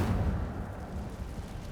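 Incendio fire spell cast in Hogwarts Legacy inside a cave, a low rumbling whoosh of flame that swells loudly at first and then holds as a steady roar, with no voices.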